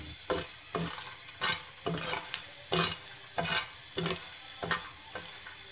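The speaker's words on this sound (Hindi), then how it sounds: "देखिए हम इसके साथ इसे फ्राई करेंगे।" Dried coconut pieces frying in a pan for a garlic and coconut chutney, soft sizzling broken by regular stirring scrapes of a spoon against the pan, roughly twice per second, close and moderately quiet.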